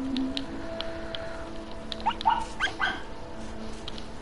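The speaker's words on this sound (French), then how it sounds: "Arrête d'aboyer, toi." In the video game Rime, an animal gives a few short yipping barks at middle distance over soft ambient game tones.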